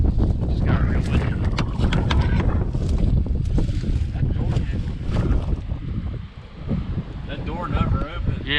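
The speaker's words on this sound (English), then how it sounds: "Just got real windy." Strong wind roars across the microphone in a steady, loud rumble, with some indistinct voices partly buried beneath it.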